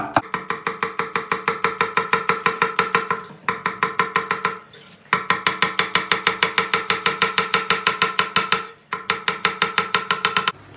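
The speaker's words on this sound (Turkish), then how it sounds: "Soğanlarımızı sote doğrayacağız." Onions being chopped finely with a knife on a cutting board for chicken bulgur pilaf, fast, even, close knocks of the blade in long rapid runs, broken by a few short pauses.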